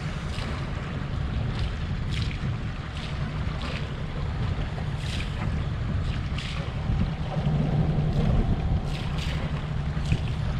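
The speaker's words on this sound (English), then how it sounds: "I've had the motor on like just above idling for like ages" A steady low drone of a boat motor running just above idle at sea, mixed with wind buffeting the microphone and the wash of water, with no voices.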